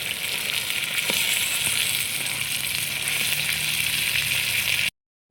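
Pigeon peas (tuvar) sizzling in a pot on a stove, a steady close frying hiss that runs unbroken for about five seconds, then cuts off.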